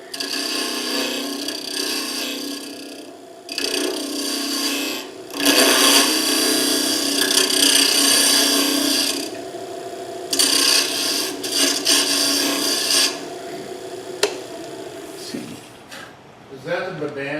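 A scraper cuts into wood spinning on a lathe while a hollow Christmas ornament is turned, giving steady rasping bursts that start and stop in repeated passes over about seventeen seconds, close and fairly loud, with talk heard between cuts.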